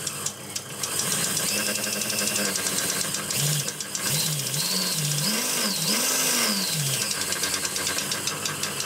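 Small electric motor driven from a variac, whining with a pitch that climbs, dips and swoops as the voltage is cranked up and down, steady and close over a buzzy hum.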